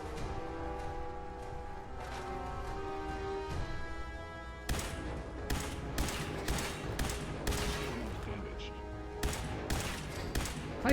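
Rapid bursts of gunfire in Fallout 4 VR, a string of sharp close shots and volleys over a busy game soundscape, loud and repeated through the second half.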